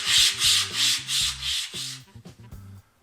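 Wood pieces of a hexagonal art piece are sanded by hand in about six rhythmic back-and-forth strokes, loud and close, then a few softer shuffles and taps as the work is handled.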